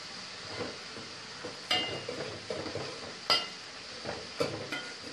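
Tomatoes frying in a pan for sambar give a low steady sizzle, broken by a few sharp clinks and scrapes of a spoon stirring against the metal, all close and without speech.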